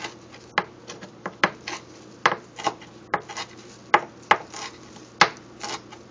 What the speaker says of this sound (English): A whole lot of fresh parsley. I'm going to go ahead and chop that up.